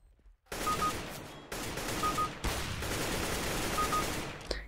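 Three rapid bursts of gunfire from Counter-Strike: Global Offensive, each a loud, dense crack-and-rattle starting abruptly after a brief quiet opening, separated by short gaps, close and alone without talk.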